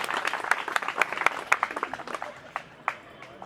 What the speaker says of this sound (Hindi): एक जोरदार तालियां द्विवेदी के लिए